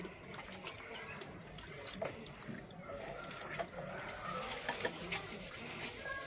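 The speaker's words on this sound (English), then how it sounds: "Now Pamela is scrubbing outside" A wet floor outdoors is scrubbed, giving steady, close, rhythmic rubbing and swishing strokes with a watery edge, while voices murmur faintly in the background.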